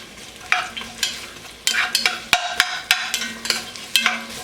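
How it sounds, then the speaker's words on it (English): Onions sautéing in hot oil in a pot, a soft sizzle underneath with repeated scraping and clacking as they are stirred, close and moderately loud. "We're going to let our oil get a little hot. And go ahead and add our onions into this."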